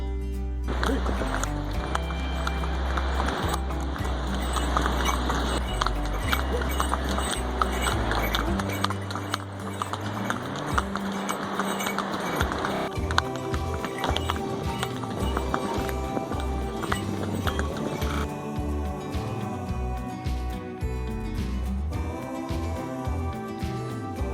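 Horses clop uphill on the Kedarnath pilgrimage trail from Gaurikund in Uttarakhand, with steady hoofbeats continuing throughout alongside other background sound.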